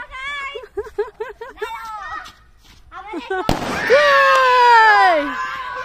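A Diwali firecracker goes off with a single sudden, loud bang, preceded by children's excited voices and followed by shouting as the blast rings out.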